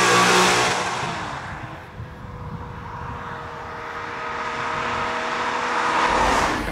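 A Maserati engine pulls hard while driving in gear, a loud continuous roar with rising and falling harmonic tones over steady road and wind noise, swelling again toward the end.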